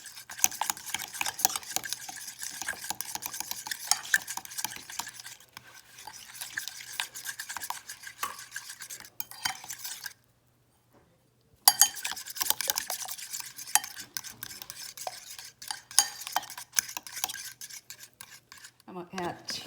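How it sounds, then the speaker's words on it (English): Lemon bar mixture stirred with a utensil in a bowl, a fast rhythmic scraping and tapping of metal against the bowl, fairly quiet and close, with a brief pause midway. "Mix this up."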